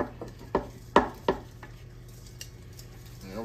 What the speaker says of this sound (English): Put all that in there, mix it up.